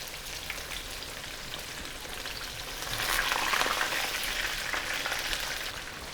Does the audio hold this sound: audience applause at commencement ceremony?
no